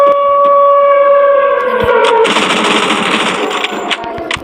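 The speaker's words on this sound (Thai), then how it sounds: "แรงมากต้องหลบก่อนเขายิงโคตรแรงอ่ะ" Rapid automatic gunfire from the mobile battle-royale game Free Fire MAX, a loud, dense burst of shots that erupts midway over a steady tonal game sound and keeps going to the end.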